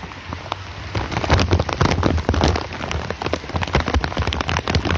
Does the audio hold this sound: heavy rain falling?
yes